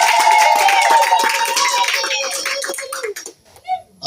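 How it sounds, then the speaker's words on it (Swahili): A church congregation on a pastor's visit to Ushindi zone claps for Jesus, loud dense applause filling the room and fading out over a few seconds, with voices and a ringing tone among it. "Hebu tumpe Yesu makofi mazuri."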